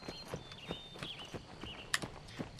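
Horse hooves walking in the Petz Horse Club game, an even clip-clop of several soft steps under quiet background music.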